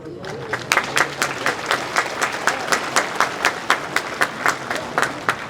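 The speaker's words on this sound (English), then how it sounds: "So I give my applause to the late General Vang Pao." Audience applause at a Hmong American Freedom celebration honouring the late General Vang Pao and Special Guerrilla Unit veterans: steady, fairly close clapping from a modest crowd, individual claps distinct in a regular rhythm throughout.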